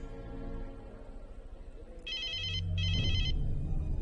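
A telephone rings in two short trilling bursts, fairly clear over a low background hum, with a soft thud beneath the second burst.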